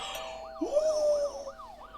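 A police car siren wails in the Fears to Fathom video game, its rising and falling tone cycling repeatedly at moderate loudness beside a brief sustained electronic tone.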